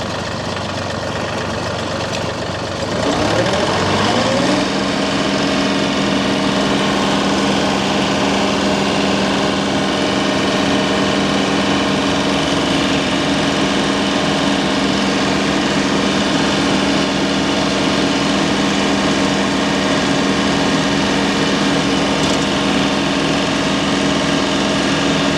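Tractor PTO engaging to drive a flail mower: an engine idles, then a rising whine spins up after a few seconds into a loud, steady droning hum that continues unbroken.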